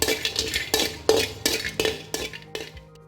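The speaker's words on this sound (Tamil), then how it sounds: "இப்போ ஜாதிக்காய் வறுத்துக்கலாம்." Whole nutmeg dry-roasted in a pan while being stirred, giving a series of about seven sharp scraping clinks of spoon against metal at a steady, fairly quick pace, close and clear with no voices.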